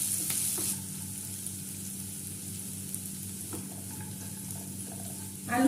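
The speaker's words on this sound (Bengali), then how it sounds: "দিয়ে ভালো করে নেড়ে আলু গাজর সব একটু ভেজে নেব।" Salted potatoes and carrots fry in a pan and are stirred, a gentle close hiss with a few light scrapes and clicks, louder at the start and ending with a brief rustle.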